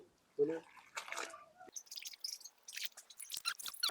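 A large elephant foot yam is washed by hand in water, giving splashing and dripping bursts of varying loudness while a person talks over them.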